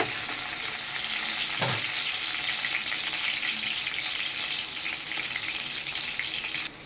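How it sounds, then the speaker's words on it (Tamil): Potatoes frying in oil give a steady, close hiss of sizzling that runs unbroken throughout, with one brief knock of a utensil partway in. "உருளைக்கிழங்கு நல்லா வேணும். நல்லா எண்ணெயில் வறுத்துக்கணும்"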